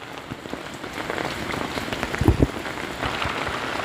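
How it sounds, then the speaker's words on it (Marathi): Heavy monsoon rain in the Konkan pours in a dense, continuous hiss, with a few louder splashes and knocks near the middle; no voices. "पावसाचं प्रमाण पण लय आहे"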